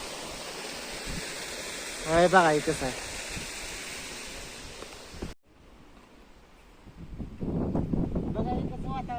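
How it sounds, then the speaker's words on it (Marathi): Falling water rushes as a continuous broad hiss on a hillside near a temple trail, steady under a voice, briefly cut off then returning. "तो का इथून बघा पाणी कसं पडतंय बघा"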